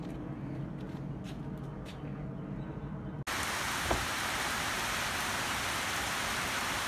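Rain falling outdoors, heard as a steady broadband hiss that jumps to a louder, fuller downpour partway through and holds constant with no talking.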